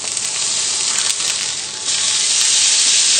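A steak sizzling in a hot pan as it is flipped, a loud continuous hiss that dips briefly and then swells louder again after the turn, with no voices over it.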